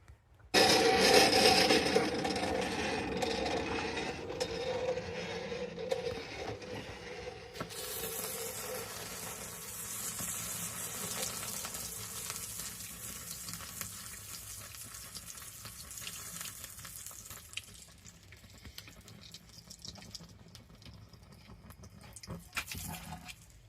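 Two hot forged blades for a medieval-style folding knife are quenched in a bath of vegetable fat and paraffin, giving a loud rushing hiss and sizzle at first that slowly fades to a low bubbling simmer.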